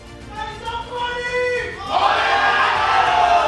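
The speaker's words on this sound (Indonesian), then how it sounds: "Yel-yel dari One Piece" Crowd chanting a One Piece yell in a TV talk show studio, voices in unison that break into loud, broad cheering and shouting midway.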